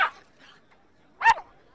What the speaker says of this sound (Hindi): ये टॉमी किस पर भौंक रहा है?